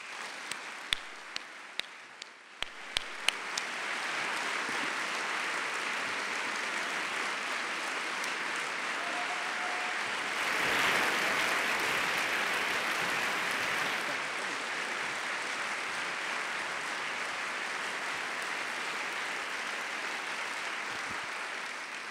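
A conference audience claps steadily as a speaker is welcomed onstage at an opening plenary session, the applause building from a few early claps into sustained, dense clapping that swells briefly near the middle, with no talking over it.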